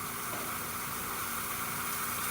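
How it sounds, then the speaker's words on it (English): A Gaggia Academia espresso machine's steam wand releasing a steady, hissing rush of steam, continuous and moderately quiet with no talk. "we're going to use the steamer on the opposite side."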